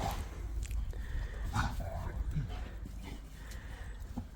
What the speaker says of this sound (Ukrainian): Ось як радіють собаки снігу